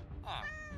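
A Minecraft cat lets out a single short, rising meow at moderate volume over low background game sounds.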